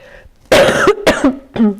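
A person coughs several times in quick succession, harsh and close, with short pauses between the bursts.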